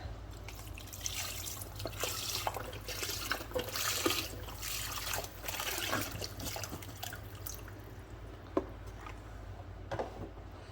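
Broth being poured into a pot for potato cheese soup, a steady close splashing and trickling of liquid that runs for several seconds before easing off, with a faint clunk near the end.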